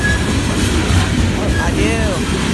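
A CN coal train with distributed power locomotives passes in Agricola, Mississippi, with a steady rumble of railcars, clacking wheels and brief wheel squeals throughout, close and loud.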